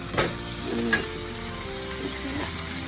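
Pork pieces frying in oil as they are turned over, a loud steady sizzle with a couple of utensil knocks and scrapes near the start, and no talking.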